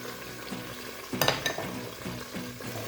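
Ginger garlic paste frying in a pan for a pulao, a soft steady sizzle with a few louder spits and crackles near the middle.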